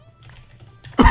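One abrupt, loud cough bursts out at the very end after a quiet stretch of faint background noise.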